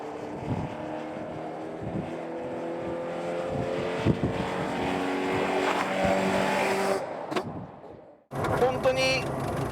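A Nissan Fairlady Z S30 fitted with a four-rotor rotary engine drives on a public road, its engine a loud, continuous, rising drone heard from inside, cutting briefly before picking up again.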